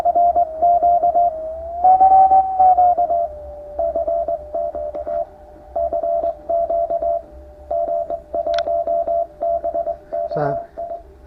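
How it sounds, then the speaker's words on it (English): Morse code sidetone from a QRP ham radio transceiver, keyed by a phone over Bluetooth through a speaker driving the PTT line: a steady single-pitch tone in rapid rhythmic dits and dahs, close and loud, with a brief burst of other noise near the end. "So, phone sending the Morse to the speaker by Bluetooth."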